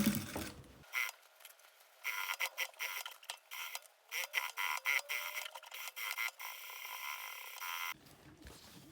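A sewing machine stitches fabric for a handmade hygiene kit, giving faint, irregular bursts of light mechanical ticking and whirring separated by brief pauses. The sound stays soft and close throughout.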